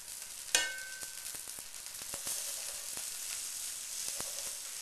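Pancakes frying in a hot pan give a steady, close sizzle throughout, with a sharp clink near the start and a few faint clicks after.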